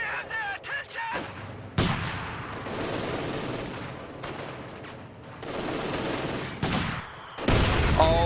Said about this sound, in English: Machine gun crew in the army!